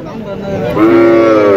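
A single cow lows at a heifer cattle market stocked with local, Australian cross and Sahiwal cattle, a loud, close moo that swells and holds steady.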